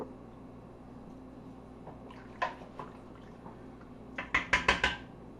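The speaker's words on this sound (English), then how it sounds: "What we're going to do is we're going to go ahead and add it to this stock here." Cut-up dumplings dropped into a pot of chicken stock, a few soft plops and splashes at first, then a quick cluster of louder wet splashes near the end, close by with a low kitchen hum beneath and no talking.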